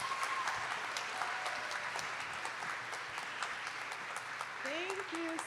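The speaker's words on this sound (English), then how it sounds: "Let's give a very loud round of applause for our MC, Nikita." A campus audience at a college event applauds the emcee, steady clapping spread across the room at moderate level, with faint voices and scattered whoops underneath.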